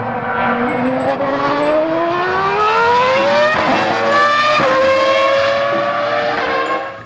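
A toy F1 race car gives off a recorded racing-engine sound, a whining engine note climbing steadily in pitch through gear-like shifts, loud and continuous with no voices.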